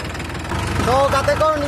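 A tractor engine runs at a steady low rumble in a rural village setting, with someone talking over it throughout and a brief high tonal whine rising midway.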